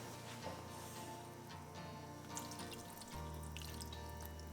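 Hot water pours steadily into a thick gluten-free bread batter for about two-thirds of a cup, a continuous close splashing, running-water sound that shifts in pitch partway through.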